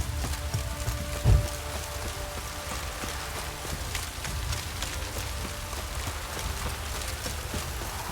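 Steady rain patters down in an even wash of noise in the video game The Witcher 3: Wild Hunt, with one brief soft thud early on and no voices.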